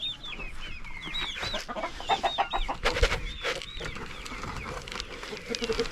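A white rooster and his hens cluck and chatter in a flock, with repeated bright calls and soft clucks close by and continuous background rustling.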